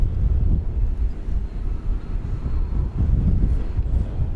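An American Airlines Boeing 777-200 arriving at DFW Airport makes a deep, steady engine roar with some wind rumble, loud and sustained across the whole clip.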